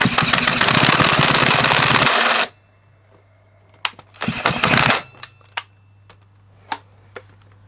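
An SGS Engineering 26cc strimmer engine being force-cranked with a socket: a loud, harsh mechanical roar for about two seconds that cuts off, then a short second burst and scattered clanks against a low steady hum.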